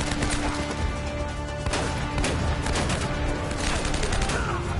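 Dense gunfire from the video game Uncharted: Drake's Fortune, a continuous barrage of rapid shots and bursts that stays loud and close throughout.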